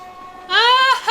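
A short, loud train horn blast with a rich, harmonic tone sounds after a faint steady hum, briefly dipping before sounding again.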